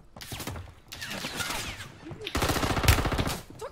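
Video game gunfire, rapid bursts of automatic shots crackling close and loud in several volleys, with a denser stretch of fire near the end; a voice talks briefly between bursts.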